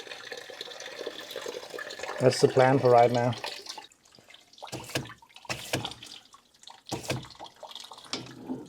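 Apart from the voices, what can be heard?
water flushing through coolant jackets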